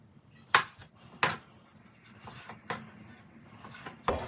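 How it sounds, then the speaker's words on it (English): Knife cutting olives in half on a cutting board, several sharp, close taps of blade striking board at an uneven pace, alone with no talk. "Then we've got our olives. Just gonna half those."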